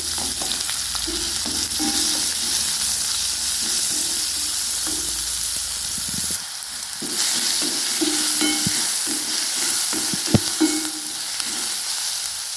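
Chopped onion and garlic fry in hot oil in a pan, giving a steady loud sizzle with stirring scrapes throughout and a brief dip partway through.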